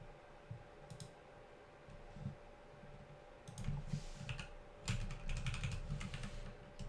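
Typing on a computer keyboard during a Swift app build: scattered bursts of quick clicking keystrokes, sparse at first and growing denser near the end, close by over a steady low hum.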